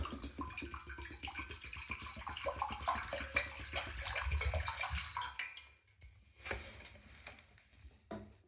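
Water pours steadily into a newly installed shower drain channel during a leak test in a bathroom, running and pattering close by, then thinning out and stopping, with a few scattered drips afterward.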